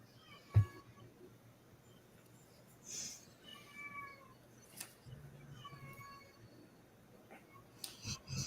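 A cat indoors gives several soft, drawn-out meows spread over a few seconds, fairly faint under low room noise and occasional thumps.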